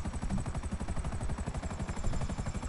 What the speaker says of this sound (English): You hear a chopper?